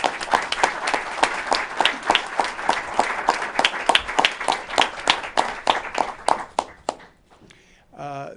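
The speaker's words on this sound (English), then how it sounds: "Let's give everyone a round of applause." Audience applause at a New York state COVID-19 briefing, dense steady clapping from a crowd for about seven seconds, then fading out as a brief clatter follows.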